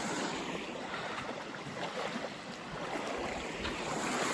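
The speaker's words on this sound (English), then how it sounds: "Last river wade on the Pinhoti." Water rushes continuously around a hiker wading across a river on the Georgia Pinhoti Trail, a steady broadband wash of flowing current with wind buffeting the microphone, close and fairly loud throughout.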